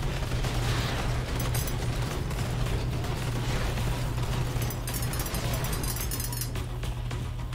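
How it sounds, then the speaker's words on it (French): Dense gunfire and explosions from the first-person shooter Scathe, a loud, continuous barrage of shots and blasts over a steady low mechanical drone, with no talking. "mais surtout des explosions dans tous les sens"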